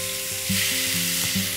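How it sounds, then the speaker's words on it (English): Loud, steady sizzling of steak searing in a hot pan, with a few soft clinks of utensil movement over the crackle. "Sizzle, sizzle, that's what we want to get."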